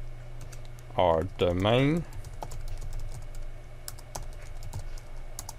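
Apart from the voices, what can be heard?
typing on a computer keyboard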